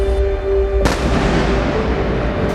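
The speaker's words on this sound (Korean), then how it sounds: "오늘도 자폭 드론과 미사일 공격이 시작됐습니다." A heavy explosive blast from a kamikaze drone or missile strike on a Ukrainian city, a sudden broadband crack followed by a long rumbling roar, with a second thump at the end, over a steady background tone.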